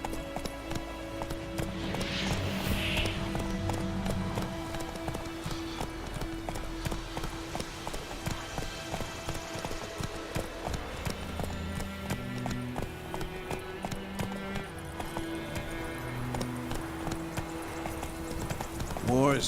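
Horse hooves in The Witcher 3 video game: a steady clip-clop of galloping hooves under a game soundtrack, with a brief whinny and voices talking over it.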